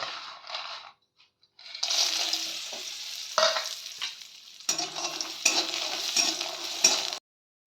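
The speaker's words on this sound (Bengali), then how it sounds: "তারপর বড়িতে একটু লবণ আর হলুদ মেখে বড়িটা আমি ভাজা করে নেব।" Lentil dumplings coated with salt and turmeric fry in mustard oil in a kadai, a close hissing sizzle that starts after a short pause and swells with intermittent stirring scrapes.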